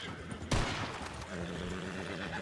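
A single sharp gunshot cracks out loud in Red Dead Redemption 2 (RedM) near a fort at a river crossing, followed by a steady wash of outdoor game ambience with no talking.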